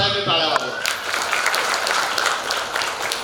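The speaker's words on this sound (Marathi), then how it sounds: "तर एकदा आमच्या पालिकेसाठी सगळ्यांनी टाळ्या वाजवा" An audience at a service-completion felicitation ceremony breaks into dense, sustained applause that carries on steadily throughout, after a brief voice at the start.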